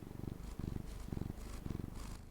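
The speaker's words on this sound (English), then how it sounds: "Yeah, I hear her purring." A rumbly cat purrs right against a microphone, a close, loud, low vibrating drone pulsing in steady inhale and exhale cycles, with no talking.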